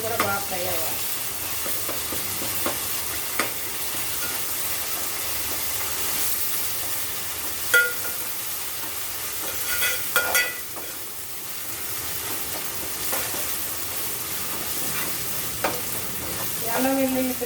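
Mutton curry masala with ginger garlic paste sizzles in a pan, a steady frying hiss broken by scraping ladle strokes and occasional louder clinks as it is stirred.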